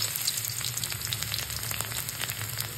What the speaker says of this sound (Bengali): সাদা জিরে ফোড়ন দিয়ে এর মধ্যে দিয়ে দেবো একটু পেঁয়াজ